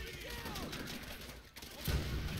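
Gunfire rings out in the Call of Duty: World at War video game, a dense, continuous run of shots that grows louder toward the end.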